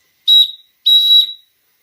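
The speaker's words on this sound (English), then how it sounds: "A couple of good blows of the whistle." Two shrill, steady whistle blasts from an Empire model 43 electric toy steam engine, the first short and the second longer, each ending abruptly, with silence between and after.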